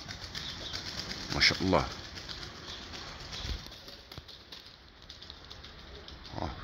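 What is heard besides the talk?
Turkish tumbler pigeons flapping wings and cooing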